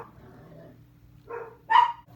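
Indoor dogs give two short barks, one muffled and then a sharper, louder yip, off at a slight distance against a quiet room.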